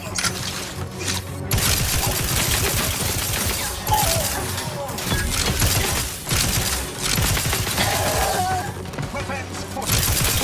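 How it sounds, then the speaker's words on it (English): Sustained gunfire in the video game The Outer Worlds 2 inside the N-Ray Facility, dense rapid shots and crackling bursts almost continuous throughout, loud and busy, with a mechanical voice speaking in places. "Lay down fire."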